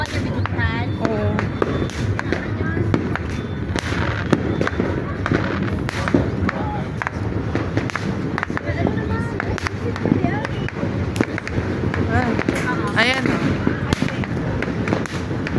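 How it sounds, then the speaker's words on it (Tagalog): Mini New Year fireworks fizz and crackle in a steady stream of small, rapid pops, with people chatting and exclaiming over the noise. "Cute na mini fireworks."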